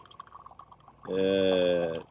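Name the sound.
filtered water flowing from bucket filter into bottle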